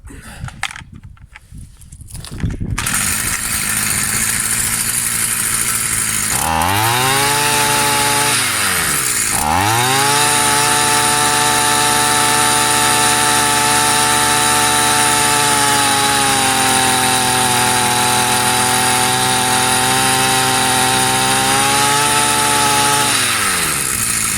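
After a few seconds of handling noise, an old Stihl FS 55 string trimmer, recently restored, fires up and runs at a loud, high-pitched whine, with two brief dips in speed before holding steady close by.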